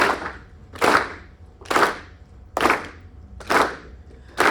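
Claps ring out in a slow, steady beat roughly once a second at an MLK tribute performance, loud and sharp against a quiet background with no talking.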